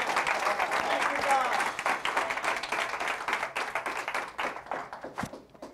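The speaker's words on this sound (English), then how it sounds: "let's give the Lord a hand clap" A church congregation claps together after a call to praise, dense handclaps filling the room and gradually thinning toward the end, with voices mixed in.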